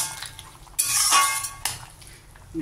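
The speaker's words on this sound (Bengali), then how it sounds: "ভালো করে একটু নেড়ে মিশিয়ে নিচ্ছি সব" Vegetables such as potato, ridge gourd, pointed gourd and drumstick being stirred in a cooking pot, with a spoon clinking and scraping against the metal in short bursts, louder in the middle, with no talk.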